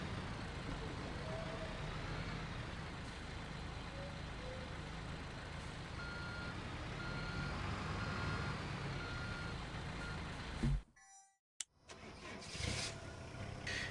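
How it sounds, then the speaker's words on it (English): Truck reversing in the Construction Simulator 3 video game, steady electronic backup beeps repeating over a continuous engine drone, then a brief dropout and a few clunks near the end. "I'm going to switch back to the truck and move it into place"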